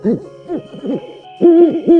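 Several owls hooting in sequence, low wavering calls in short bursts with brief pauses, the last two hoots louder and more sustained, close and clear with no talking.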